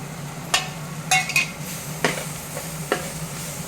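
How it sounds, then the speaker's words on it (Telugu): Spoon scraping and stirring gobi fried rice with garam masala and chili powder in a pan, giving several distinct scrapes and clinks over a soft steady sizzle, close and moderately loud with no talking. "ఇలా మొత్తం మిక్స్ చేసుకోవాలి"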